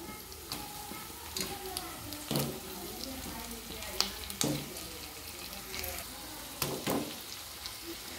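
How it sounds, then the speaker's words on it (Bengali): Potatoes fry with onions in a pan, giving a low continuous sizzle broken by scattered stirring scrapes and light clinks of the utensil, moderately close. "পেঁয়াজের সাথে আমি আলুগুলো ভেজে নেব।"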